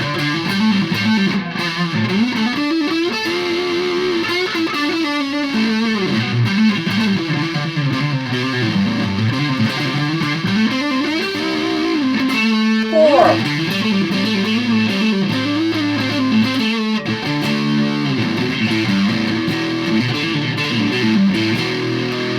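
An electric guitar played on the neck pickup through a Boss OS-2 distortion pedal, sustained gritty overdriven notes and bends ringing continuously and loud with no talking.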